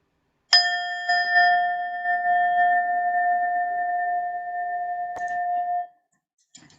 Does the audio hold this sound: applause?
no